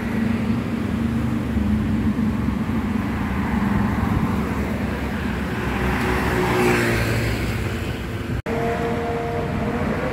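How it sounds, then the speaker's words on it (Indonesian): A Transjakarta bus passes along Jalan Pemuda in Rawamangun outside a café, its engine a loud, steady roar that swells and recedes amid continuous street traffic, with no talking. "Jadi ada mobil Transjakarta lewat guys"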